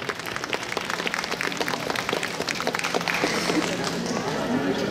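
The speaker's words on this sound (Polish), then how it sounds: "Wielkie brawa oczywiście dla modelek." Audience applause for the models at the close of a bridal gown show at a wedding fair, a steady dense patter of many hands clapping throughout, moderately loud with crowd noise in the background.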